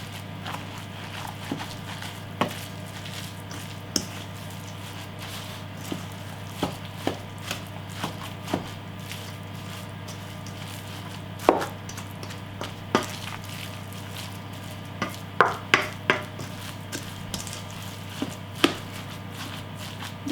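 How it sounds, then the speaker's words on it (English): Meatball mixture with soy sauce is mixed by hand in a bowl, giving soft squelching and scattered light taps over a low steady hum, quiet and close with no talk. "So just mix it all in really well until it's all mixed in well."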